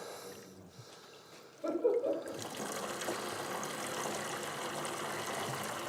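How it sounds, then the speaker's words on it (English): Water poured into the top of a sprouting container holding sprouts: after a quiet start, a close, steady trickle and splash begins and keeps running, fairly loud and alone. "you just pour water in the top"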